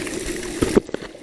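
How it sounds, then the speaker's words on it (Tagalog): Spring water from a mountain source trickles and splashes steadily nearby at a rural water-fetching spot in the Philippines, with a few brief louder splashes and no talk. "Dito galing yung tubig. Galing sa bundok."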